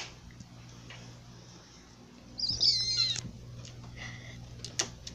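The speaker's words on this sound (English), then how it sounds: "cat playing a little bit" A cat plays indoors with a pen, making soft, irregular scuffs and taps, with a brief meow or squeak midway and scattered light clicks and ticks over a steady low hum.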